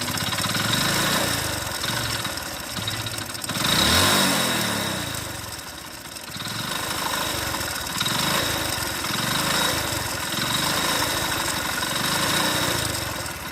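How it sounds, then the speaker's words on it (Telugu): A failing motorbike engine idles with a connecting rod knocking inside, a steady, rough mechanical chug with a brief revving swell near the start, close and loud with no talking. "సౌండ్ అనేది ఇంజన్ పోయే ముందర ఎట్లా వస్తుంది అని అంటే ఈ విధంగా అయితే వస్తుంది"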